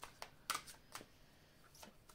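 A card is drawn from a deck, heard as faint, soft papery slides and light taps in a few brief bursts, close and quiet.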